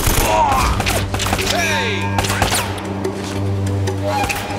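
Gunfire in the video game Uncharted: Drake's Fortune, heard as scattered sharp shots and impacts amid game music and ambience, with someone talking over the action throughout.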